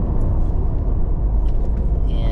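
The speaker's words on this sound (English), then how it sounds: "I'm gonna hit the brakes." Steady low road rumble of a Toyota 4Runner SUV braking from 65 mph after a brake and rotor change, with tire and brake noise building and a faint high squeal near the end.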